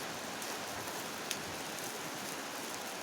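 Steady rain falls on an afternoon, a dense even hiss of drops hitting surfaces, continuous and fairly close, with no voices.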